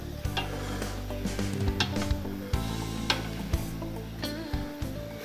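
Soft clinks and scrapes of a utensil stirring beef, bacon and sliced onion in a pan, with a quiet sizzle underneath and a few sharper taps scattered through.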